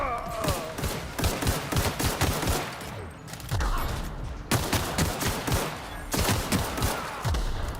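Pistol and other gunfire in the video game The Outer Worlds, rapid repeated bursts of shots forming a dense fusillade, loud and close, with short pauses between volleys.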